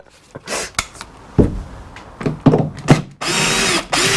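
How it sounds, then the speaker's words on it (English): A power drill runs in short, loud bursts separated by clattering handling noises, ending in a longer sustained whir. "All that's done is undo the drill bit."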